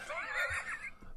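A horse gives a single close, clear neigh, a shrill whinny with a quavering fall lasting about a second, with no other sound around it.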